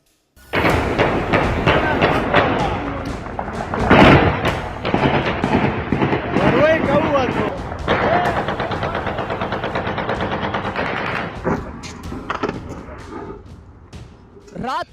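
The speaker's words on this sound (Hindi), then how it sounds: "रात के सन्नाटे को चीरती गोलियों की इन आवाजों ने पाकिस्तान के वजीर आजम शहबाज शरीफ की नींद उड़ा दी है" Gunfire during a Taliban attack on Pakistan at night: dense, sustained bursts of rapid shots and sharp cracks fill nearly fifteen seconds, loud and continuous with a few heavier thuds, then easing slightly toward the end.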